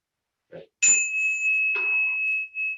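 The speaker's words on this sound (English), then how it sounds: "So this bell is very small." A small hand-held bell is struck once after a brief soft knock, ringing with a clear, bright sustained tone that hangs steadily for nearly two seconds alone, with a faint second touch near the end.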